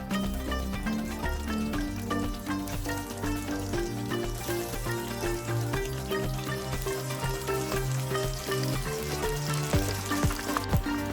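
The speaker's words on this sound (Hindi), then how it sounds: "ऑयल मेरा अच्छा गर्म हो गया, चिकन मेरी उबली हुई थी, सिर्फ हवा लगाई। अब इनको फ्राई कर लेंगे।" Coated, pre-boiled chicken drumsticks (tangdi) fry in hot oil, a dense, continuous crackling sizzle held close and steady throughout, with no talk.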